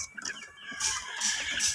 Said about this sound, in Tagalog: pakain muna tayo ng aking mga manok